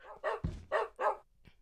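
A Minecraft dog barks about four times in a quick, uneven series, close and clear against a quiet background.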